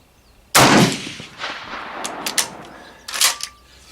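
Gunfire from a Noveske AR rifle on a shooting range: one loud, sharp blast near the start, then a quieter run of scattered reports and a second burst of louder cracks later, with no talk.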